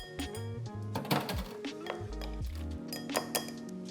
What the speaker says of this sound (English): you want to use a spoon to mix them very quickly to start the cooking process of the egg into the blend